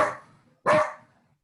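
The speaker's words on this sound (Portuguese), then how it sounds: "Esse é meu cachorro, Tom Zé, participação especial." A dog gives two sharp, close barks about half a second apart, the second louder, then quiet follows.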